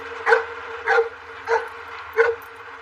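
A police canine barks at a traffic stop during a narcotics sniff of a vehicle, giving four sharp, evenly spaced barks at moderate distance.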